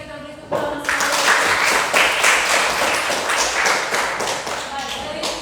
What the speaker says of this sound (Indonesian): Kita beri tepuk tangan sekali.